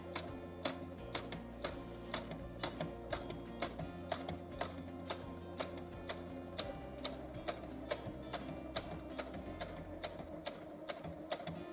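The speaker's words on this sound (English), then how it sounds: "So I'm going to hold it down while I sew over it." A sewing machine stitches over a dart in a hat for a Xeroderma Pigmentosum patient, giving a quiet, steady run of rhythmic clicking ticks, about two per second, alone without talk.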